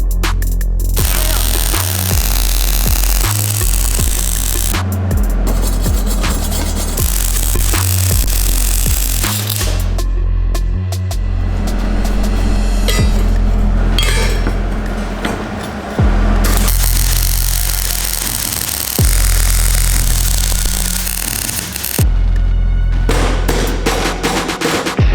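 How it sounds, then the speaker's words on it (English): Welding on a steel rack for a stunt moped, heard as loud crackling and sputtering arc bursts in repeated short runs with pauses between, alongside occasional clanks and a steady background hum. "start finishing up the actual welds"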